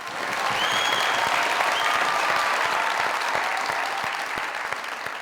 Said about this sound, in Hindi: दुनिया न्यूज के लिए जोरदार तालियां।